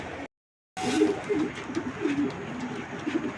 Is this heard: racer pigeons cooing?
yes